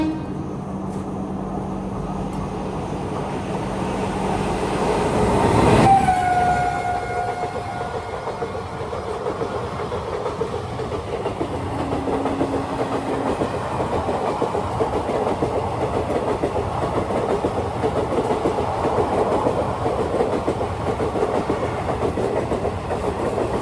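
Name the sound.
Ratnachal Express train passing the station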